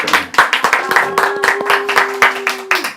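A small group gives a round of thankful applause at an indoor church gathering, with uneven clapping that rises and falls for about three seconds. A faint tone sustains underneath.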